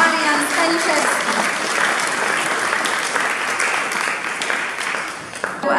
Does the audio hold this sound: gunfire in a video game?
no